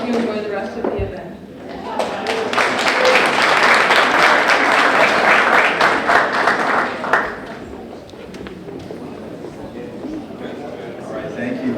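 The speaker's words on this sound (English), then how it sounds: "one more round of applause for the Saratoga Youth Commission" An audience at a city State of the City event breaks into loud, sustained applause that swells and then fades out, with speech over the end.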